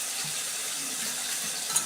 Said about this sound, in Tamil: நல்லா தண்ணி ஊற்றி நல்லா க்ளீன் பண்ணிவிட்டு